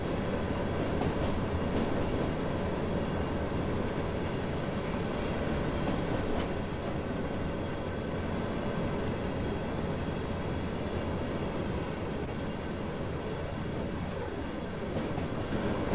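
A DR class 250 electric locomotive in the Train Sim World 4 game accelerates on the Dresden-Riesa line, giving a steady, continuous rolling rumble with faint rail clatter and no voices.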